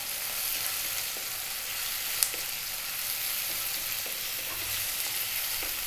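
Sun-dried tomato pieces and dried oregano sizzle steadily in a hot pan, a constant broadband frying hiss with faint stirring scrapes and one brief clink, no voices.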